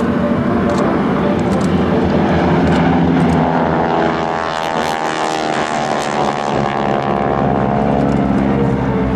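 GEICO Skytypers propeller planes pass overhead in diamond formation at an airshow, a loud droning roar of several piston engines that swells and shifts in pitch as they fly by.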